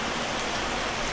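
Steady, dense rain falls during Hurricane Milton, a continuous close hiss with no voices over it.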